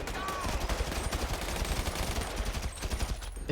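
Rapid bursts of AK rifle fire in a video game, dense cracking shots in quick rhythmic strings, loud and close, with game sounds layered over them.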